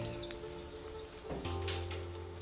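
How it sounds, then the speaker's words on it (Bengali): Spoonfuls of cabbage pakoda batter drop into hot oil in a wok and set off a steady, fizzing crackle. The sizzle stays fairly quiet and close under a faint hum, with no one speaking. "এবারে এখান থেকে নিয়ে আমি পকোড়ির মতো, মানে এরকম পকোড়ি মতো করে তেলে দিয়ে দেবো"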